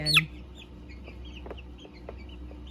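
Young barred rock chick in a brooder, about two to three weeks old: one short, sharp high peep near the start, then a few faint soft clucks and light scuffles over a low steady hum.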